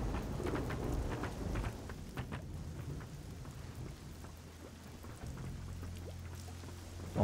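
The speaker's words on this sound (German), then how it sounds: "Meine Fresse, immer diese Gewitter." Heavy thunderstorm rain in the game Risen 2, a dense steady downpour with low rumbling thunder rolling underneath, continuous and fairly loud with no talk.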